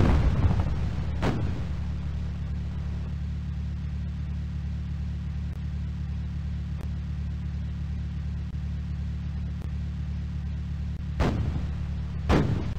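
StuG assault guns firing in the video game Across the Rhine, heard as a few sharp, widely spaced booms over a steady low engine rumble that runs throughout.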